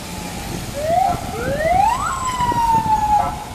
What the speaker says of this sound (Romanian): Poliția se grăbește la vreun accident.